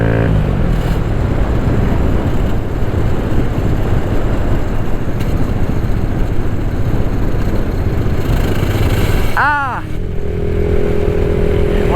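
A Kawasaki Z125 Pro motorcycle runs close and loud with a rough, clattering engine note, then a sharp rising rev and abrupt drop as it is put into gear, followed by a steadier idle.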